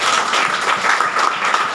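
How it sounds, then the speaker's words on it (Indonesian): Brief burst of audience applause at a church theology seminar, a steady wash of many hands clapping, close and loud, with no voices over it. "Tepuk tangan dong."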